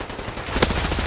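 Rapid automatic gunfire in Fallout 4, a close, loud burst of fast shots that sharpens and intensifies midway.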